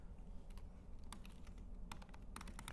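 Computer keyboard typing while a unit test is written, a few scattered clicks and short bursts of keystrokes over a steady low room hum, moderately close and quiet.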